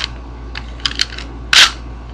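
A 2x2 Rubik's cube gets three quick turns that blend into one move: a few light plastic clicks, then a sharper, louder snap near the end, close up and alone.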